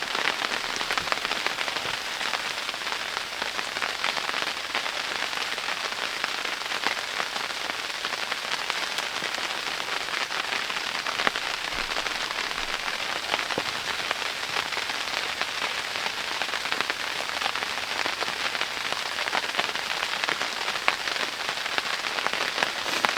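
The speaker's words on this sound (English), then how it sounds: "Maybe if it stops raining, we can take a step outside or something like that." Steady rain falls continuously, a dense even patter on a surface that holds constant for the whole stretch with no voices.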